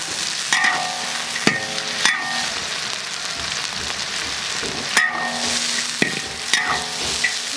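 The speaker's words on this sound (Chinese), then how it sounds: "加翻炒" Duck pieces stir-fried in a hot wok with cooking wine, oyster sauce, soybean paste and dark soy sauce, a continuous loud sizzle broken by several sharp metallic scrapes and clanks of the spatula against the pan.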